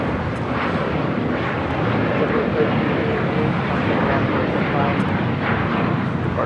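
An airliner moving at LAX, a broad steady jet roar that holds at constant loudness throughout, with voices talking over it.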